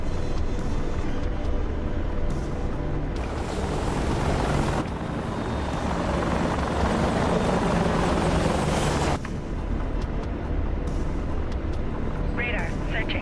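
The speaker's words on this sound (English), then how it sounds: "This is an AH-64D model Apache." An AH-64D Apache helicopter in a video game drones with a steady, loud rotor and engine roar that swells and dips slightly, continuous for the whole stretch.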